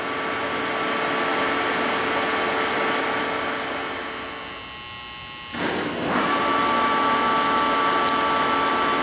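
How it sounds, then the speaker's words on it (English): A Lucas 441B-72 table-type horizontal boring mill runs its spindle at its slowest speed, 13 RPM, giving a steady machine hum and whine that briefly dips in level before returning. "So we're going to run through some spindle speeds on the Lucas 441B-72. And this is the slowest speed on the machine."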